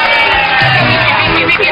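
Studio audience at a variety show cheers and applauds, loud whoops and shouts over clapping in a short, close burst with voices mixed in.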